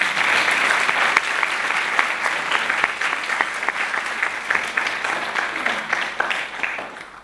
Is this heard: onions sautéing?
no